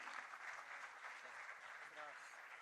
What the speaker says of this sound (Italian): Applauso per loro, eccoli!